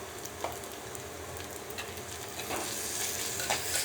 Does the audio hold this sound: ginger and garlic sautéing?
yes